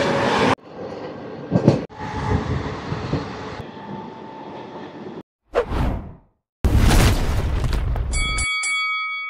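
The Ratnachal Express, train 12718 running from Vijayawada to Visakhapatnam, roars and rumbles loudly in several abrupt bursts with a rushing whoosh, then ends in a short, clear horn-like tone.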